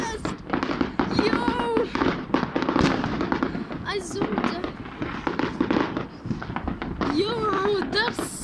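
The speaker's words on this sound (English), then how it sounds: "And look, the fireworks are so trippy." New Year fireworks bursting in a foggy night sky, a dense run of loud crackling pops and booms throughout, with excited voices talking over them.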